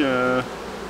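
Bees in a strong colony inside a hive give a dense, steady buzzing hum, close and even, that drops to a softer murmur partway through this brief moment.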